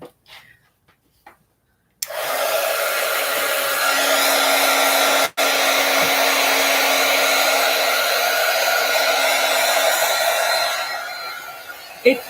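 A hair dryer blows loud and steady at close range for about ten seconds, drying artwork, with a short break midway and a few faint handling noises before it starts.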